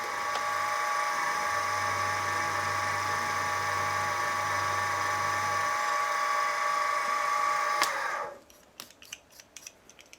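A small drill with a 2.1mm bit whines steadily at high pitch for several seconds while drilling holes in a model steam engine's cylinder cover, then stops, followed by a few light clicks and taps.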